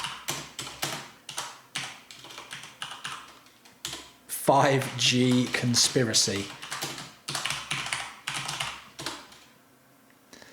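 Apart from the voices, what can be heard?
typing on a computer keyboard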